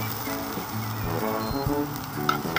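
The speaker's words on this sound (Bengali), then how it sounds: "এবার আমি পেঁয়াজটা দিয়ে দিই। আরে দেখো তেলটা কি গরম হয়েছে।" Onion goes into hot oil and sizzles steadily, with a voice talking over the frying throughout.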